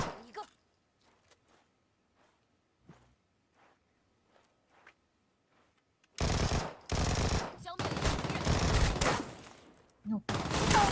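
Video-game gunfire starts after a quiet stretch of faint clicks and footsteps, erupting into loud, dense bursts of automatic fire with short gaps, continuing to the end.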